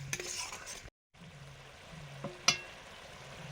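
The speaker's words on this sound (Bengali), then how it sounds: "মশলা কষানো হয়ে গেছে" Spices are stir-fried in a pan with a soft sizzle. A spatula scrapes and clinks against the metal, and a sharp clink comes near the end, all quiet and close with a short silent gap.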